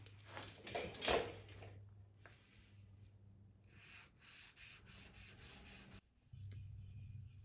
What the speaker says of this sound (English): watching a little wet sanding here is probably about as interesting as watching paint dry